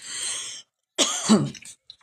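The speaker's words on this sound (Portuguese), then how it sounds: "Olha aí eu tossindo" A woman coughs close to the microphone during a spoken Catholic prayer session, a brief breathy sound followed by a harsh throaty cough with throat clearing, then a faint trailing sound.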